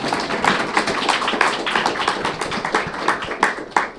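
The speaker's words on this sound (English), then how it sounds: "Yeah, we can clap again, that's fine." Audience at a prize event claps in a brisk, close round of applause, individual hand claps standing out in an uneven patter for a few seconds.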